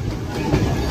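A passenger train running the Vijayawada–Tenali–Guntur line, a push-pull service with a locomotive at each end, rolls past as a steady, loud low rumble and rattle with faint wheel clatter.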